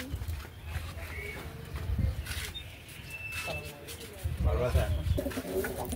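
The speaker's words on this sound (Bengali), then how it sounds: "এই যে দেখা যাইতেছে একটা সাতচিলা কবুতর" Pigeons cooing in a racing pigeon loft, soft repeated coos close by, mixed with shuffling, rustling and other loft noise.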